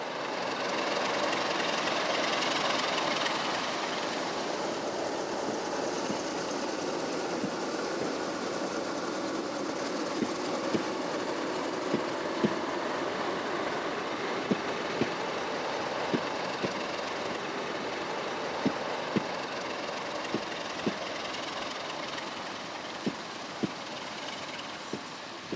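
A diesel TAR railcar set runs on the Regordane railway line, giving a steady, moderately distant rumble with sharp rail clicks recurring more often toward the end.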